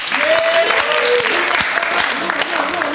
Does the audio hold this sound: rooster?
no